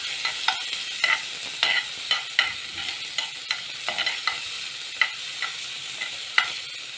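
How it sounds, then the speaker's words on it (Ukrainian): A spoon stirs mushroom sauce in a pan over gas, with repeated scraping strokes in a steady rhythm over a sizzling, frying hiss, close and clear, no talking. "беремо ложечку і все це мішаємо"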